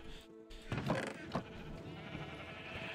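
Blocky sheep in the video game Minecraft bleat a couple of times, fairly quiet and close, over a low background hum of game ambience.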